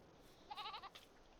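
Baby goats in the Farming Simulator 22 video game give a short, faint bleat, a quick wavering cry over quiet steady background hiss.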